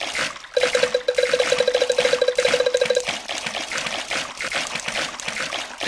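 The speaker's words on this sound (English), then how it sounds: "Peppa and George love splashing in the pool." Water splashing and trickling in a pool as Peppa and George Pig swim in a Peppa Pig video game, rhythmic watery strokes alongside a rapid repeating tone, then softer splashing.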